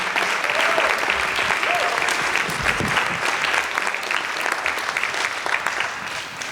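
A crowd applauds panelists at the close of a community discussion event on discrimination, with steady, loud, dense clapping that fills the whole stretch and eases slightly at the end.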